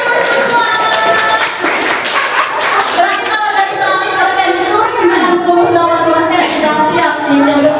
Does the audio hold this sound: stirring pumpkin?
no